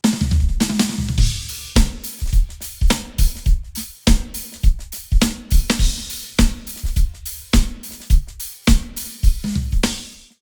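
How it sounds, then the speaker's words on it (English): Snare drum tuned tighter for a snappier, smaller-sounding crack, played in a steady series of sharp, close hits with short ringing decay and brief pauses between phrases. "So with the torque on the snare drum, it will sound like this."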